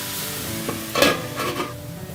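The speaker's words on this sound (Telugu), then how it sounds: "మనం మధ్య మధ్యలో మిక్స్ చేసుకుంటూ ఈ క్యాబేజీని కుక్ చేసుకోవాలి" Cabbage being stirred in a hot pan while cooking for a spicy chutney, a steady soft sizzle with a few scraping stir strokes near the middle, close by and with no talk.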